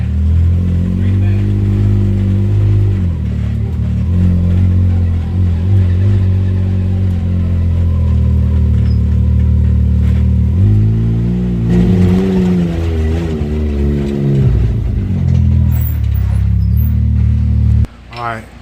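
A Can-Am X3 side-by-side drives around the block, its engine droning steadily at mid pitch with revs rising and falling, loud and close throughout; voices talk over it, and the engine cuts off near the end.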